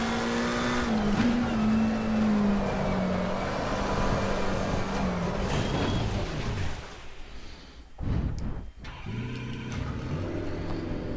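A racing car in a sim racing video game holds a steady, loud engine drone, then spins out with a rough, squealing, scraping burst before the engine settles and picks up again.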